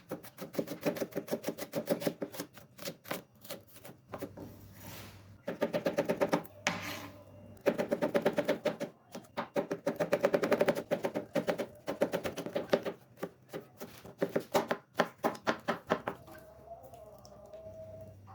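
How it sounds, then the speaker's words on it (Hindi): A knife finely chops vegetables on a cutting board for a peri peri sauce paste, rapid rhythmic tapping in fast bursts with short pauses, close and crisp. "मैं यहाँ बारीक बारीक कटिंग कर रही हूँ ताकि आसानी से ब्लेंड हो सके।"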